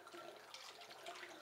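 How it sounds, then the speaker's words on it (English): Cold water pours steadily into a wine fermenter while topping up tea wine, a faint, continuous splashing gush that runs for the whole moment without voices. "So now it's time just to top the wine up with cold water"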